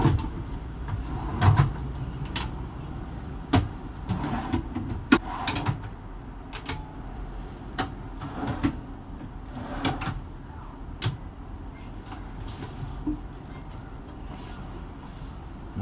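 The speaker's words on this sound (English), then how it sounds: "I'll try and give you a little bit of a demo of these drawers" Drawers in a 1978 Millard Mini Pop Top caravan being opened and closed repeatedly, giving a string of close wooden knocks, slides and latch clicks at uneven intervals, with no speech.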